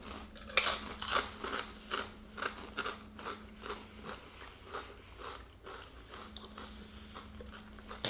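Doritos Pizza Hut BBQ Meatlovers corn chips crunched close to the mic, with repeated crisp bites and chewing in an irregular rhythm and no talking.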